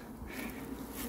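Honey bees hum on a comb frame lifted from a top-bar hive beside a reservoir in May, a dense continuous buzz filling the air close by, with no talk.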